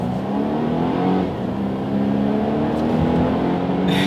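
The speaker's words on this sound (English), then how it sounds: "let me do a quick little acceleration" A 2017 Volvo XC90 T6 Momentum three-row SUV in dynamic driving mode accelerates from a standstill, its engine droning steadily and rising in pitch as it builds speed, heard loud from inside the cabin.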